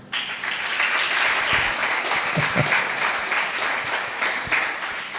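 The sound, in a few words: congregation applause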